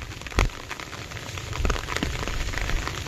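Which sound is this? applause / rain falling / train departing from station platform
rain falling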